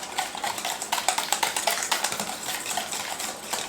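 A utensil stirs creamy coleslaw dressing with horseradish in a bowl, rapid clicking and scraping taps close up in a brisk steady rhythm.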